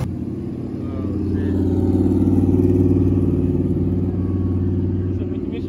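At a drag racing event at Atlanta Motor Speedway, a drag car's engine drones nearby and swells as its turbo spools, a thick rising rumble that holds, while people talk over it.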